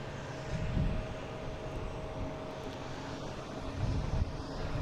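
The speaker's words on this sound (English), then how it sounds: "An A321neo coming in from Chicago before they'll let the other guys take off." A United Airbus A321neo approaches to land, a broad distant jet roar with a faint steady engine whine, swelling slightly at the start and again near the end, with no voices.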